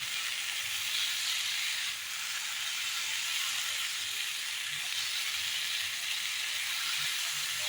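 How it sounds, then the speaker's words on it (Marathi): Tomato and grated coconut frying in a pan for shev bhaji give a steady, continuous sizzle and hiss that holds at an even level throughout, with no voices. "ते छानपैकी फ्राय करून घेते"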